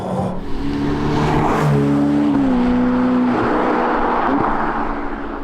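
A Ferrari F8 Tributo with its V8 accelerates hard on warmed tyres, the engine note loud and close, rising steadily through the revs with a brief shift partway before climbing again.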